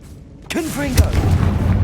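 A Confringo spell blast fires in Hogwarts Legacy, a short fiery burst with a low boom that rolls on under a voice calling out a spell.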